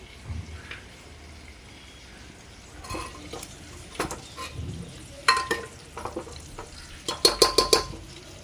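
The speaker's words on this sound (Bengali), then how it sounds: "পটলগুলোকে আস্তে আস্তে আমি ভাজবো।" Soft sizzling of pointed gourd frying in oil with salt and turmeric builds gradually, broken by spoon scrapes and clinks against metal, with a burst of clattering toward the end.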